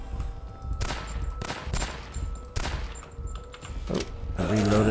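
Bursts of gunfire mowing down basic zombies in the video game Gynophobia, several sharp volleys with short gaps between them, and louder game noise building at the end.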